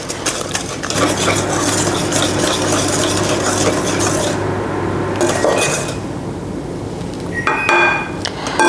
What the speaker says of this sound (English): Now we'll whisk it